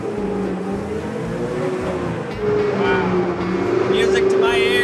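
A Ski-Doo snowmobile engine at the Valcourt, Quebec factory drones steadily and rises in pitch as it is revved, loud and continuous, with people talking over it.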